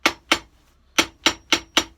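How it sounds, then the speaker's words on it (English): Hammer blows on a skived leftover leather piece during a Christian Louboutin shoe restoration: six sharp, close strikes, two quick ones, then a pause, then four in an even rhythm, each with a short ringing decay. "I'm going to hammer this leather piece down and kind of crush the fibers to make it tighter"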